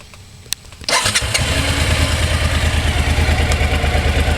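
A 2006 Suzuki V-Strom 1000 motorcycle engine cranks with a short starter whir, catches with a loud burst, and settles into a steady, throbbing idle close by.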